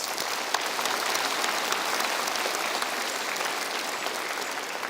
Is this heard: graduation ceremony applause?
yes